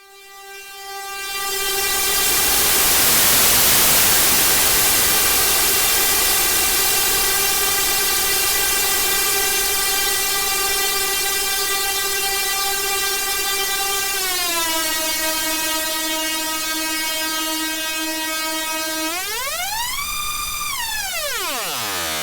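Output of a synthesizer noise module, a loud sustained tonal drone with stacked harmonics that holds steady, dips in pitch, then sweeps sharply up and back down.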